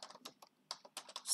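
Quick, light keystrokes tap on a computer keyboard in short irregular bursts, close and fairly quiet, while a database query is typed in on a terminal.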